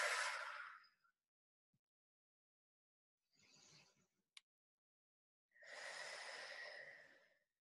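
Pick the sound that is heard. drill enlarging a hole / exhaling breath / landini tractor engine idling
exhaling breath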